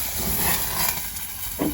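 Water added to a hot pan over a wood-fired stove outdoors, producing a loud steady hiss of steam that fills the whole short stretch, with no talking.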